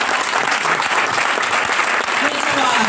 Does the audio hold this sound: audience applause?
yes